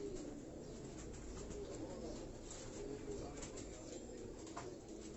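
Pigeons cooing steadily on a Karachi rooftop, a low continuous murmur of several birds close by, with faint bird chirps and room noise mixed in throughout.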